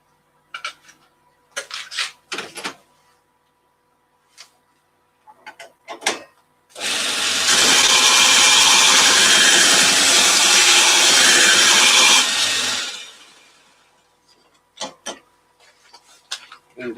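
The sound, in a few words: sharpening a woodturning gouge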